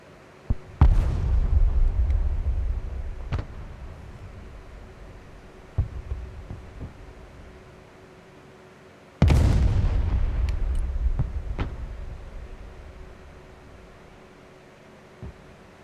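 Heavy artillery fire in the video game Broken Arrow: two loud booming blasts with long rumbling decays, separated by several seconds, plus a few smaller distant thuds in between, with a faint steady hum underneath.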